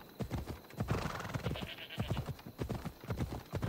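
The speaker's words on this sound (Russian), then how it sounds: "Если я скачу на лошади" Rapid hoofbeats of a galloping horse in the video game Assassin's Creed Odyssey drum in quick rhythmic bursts, fairly close and clear, with no speech over them.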